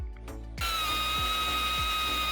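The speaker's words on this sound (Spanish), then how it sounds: "Cortar estos agujeros quizás fue lo más complicado y es que la taladradora normal no tenía potencia suficiente." Power drill fitted with a hole saw cutting holes in a van body during a DIY camper conversion, steady loud whine with bright sustained tones and rhythmic grinding pulses, starting abruptly after a brief burst.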